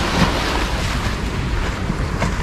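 Sea waves washing near the shore at the end of a rocky coastal road on Miyajima, a steady broadband surf wash with heavy wind buffeting the microphone throughout, no voices.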